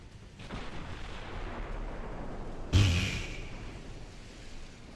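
Naval gunfire from warships in the naval battle game Ultimate Admiral Dreadnoughts: a single heavy boom bursts out of a steady ocean-like background rumble, then slowly fades away.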